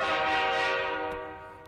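A train horn sounds in one sustained, loud blast that slowly fades over under two seconds, with no voices present.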